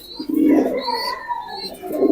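Soft, low pigeon cooing repeats in a steady murmur, fairly close, with faint higher chirps drifting in the background.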